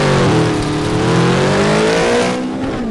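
Modified off-road vehicle in the Off-Road Outlaws game, converted to a convertible with bucket seats, revs its engine loudly and steadily, pitch climbing and sagging in a continuous close-up drone with no talk.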